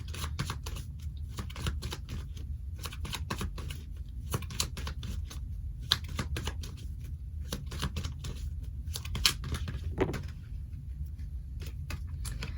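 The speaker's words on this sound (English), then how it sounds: "So I'm going to go ahead and shuffle the deck now." A deck of tarot cards is shuffled close up, with rapid riffling, crisp clicking bursts and brief pauses that continue steadily and alone at low volume.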